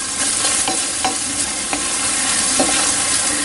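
Bell peppers tipped into a pan of softening onions and stirred, giving a steady, loud sizzle of frying with repeated sharp scrapes and clatters of the utensil across the pan.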